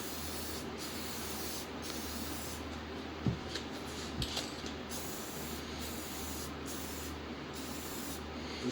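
Base coat is spray painted onto a Ford 5.4L 4V engine, a soft continuous hiss broken by short pauses between passes, fairly faint and steady with no voices.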